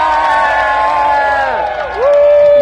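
A crowd at a live show cheers loudly with long, sustained whoops and shouting voices that swell, dip briefly, then rise again; distinct clapping is hard to pick out beneath the voices.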